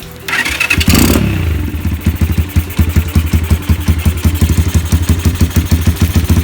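A Rusi KRY200 motorcycle engine fitted with a Nibbi 28mm PE carburetor, not yet tuned, cranks and catches, then settles into a steady, rhythmic idle with a regular thumping pulse, close and fairly loud.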